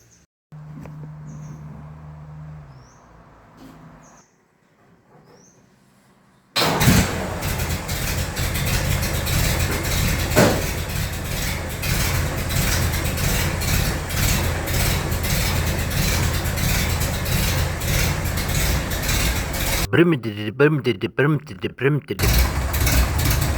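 A hopped-up Ford Roadster four-cylinder engine, fresh from a manifold gasket replacement, runs loudly and steadily at close range after a quiet start, with a brief dip near the end.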